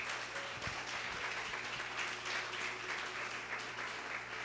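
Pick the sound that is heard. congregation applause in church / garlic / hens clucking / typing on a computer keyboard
congregation applause in church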